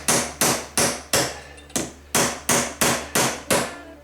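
Hammer striking metal on an anvil while forming exhaust baffles, about ten sharp, ringing blows at a steady rhythm with a short pause midway, close and loud.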